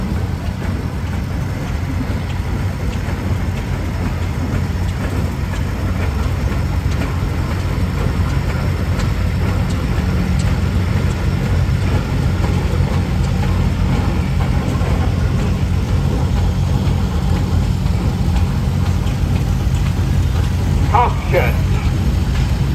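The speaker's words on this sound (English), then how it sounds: "Next we have the Mobile Junior, 25 horsepower." Mobile Junior 25 horsepower antique tractor engine running steadily through a parade, a continuous low rumble holding throughout with a short clatter near the end.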